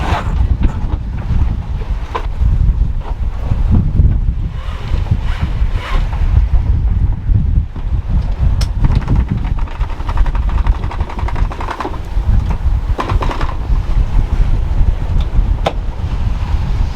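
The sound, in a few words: sailboat gybing, mainsail swinging across in the wind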